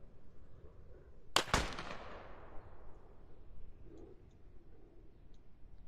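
A Mosin rifle shot rings out in the game SquadOps: a single sharp crack followed by a long decaying echo tail, moderately loud over a low rumbling background.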